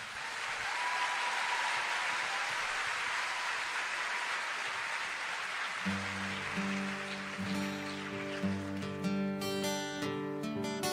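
An audience applauds a band at a Sadhguru event. Steady, dense clapping fills the whole clip, and music begins partway through.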